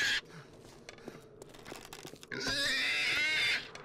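Pigs in the video game 7 Days To Die, heard as short crunchy grunts and squeals that end in a loud, sustained squeal, with sparse clicks between them.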